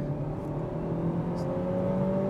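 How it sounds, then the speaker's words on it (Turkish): A car engine runs at full throttle, a loud, steady droning roar with slowly rising pitch, heard continuously from close by without talk. "Tam gaz gidiyorum şu anda."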